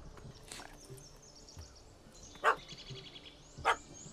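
A dog in The Witcher 3 video game gives two short, sharp barks spaced about a second apart over quiet ambient game background, with no one talking.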